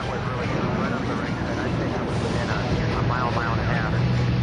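Another aircraft making a low pass close to the plane, a steady loud engine roar with a slight swell, heard from inside the cabin as a continuous drone.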